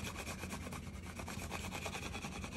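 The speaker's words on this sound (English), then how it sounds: "Using my scraper one more time." A plastic scraper rubs a vinyl decal down onto a bar of soap, making a soft, steady scratchy rubbing with quick repeated strokes, close and quiet with no talk.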